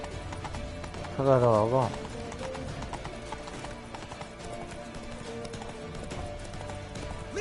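Horse hooves clip-clop steadily in The Witcher 3 video game, a continuous rhythmic trot under game music, with a brief neigh early on and someone speaking over it.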